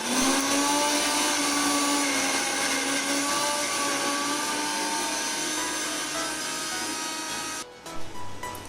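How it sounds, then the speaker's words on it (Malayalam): A mixer grinder whirs continuously as it grinds a ginger kebab paste for hariyali chicken kebab, a loud, steady motor drone that cuts off near the end, followed by a few knocks. "ഇനി നമുക്ക് അരച്ചെടുക്കാം."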